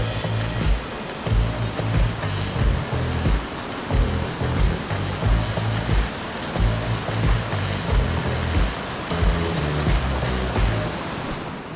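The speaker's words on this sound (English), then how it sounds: "This stream was at the old home place. It was absolutely gorgeous" A mountain stream on the Roaring Fork rushes close by at an old homestead, with a loud, steady roar of flowing water that swells and eases in gentle surges.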